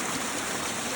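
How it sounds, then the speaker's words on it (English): A mountain stream rushes steadily along a hiking trail near Mount Moosilauke, a loud continuous wash of flowing water filling the whole clip with no voices. "There's plenty of water around here."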